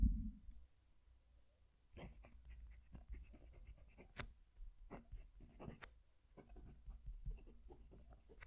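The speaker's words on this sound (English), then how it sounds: "Going to move the mic to the page so you can hear the pen writing." An extra fine nib PenBBS 323 fountain pen writes on paper close up, with soft, irregular scratches and taps of strokes over a quiet background.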